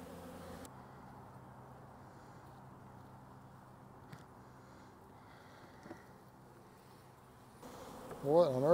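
Faint, continuous honeybee buzzing drones throughout from inside a hive, with a sharper, louder buzz passing close near the end.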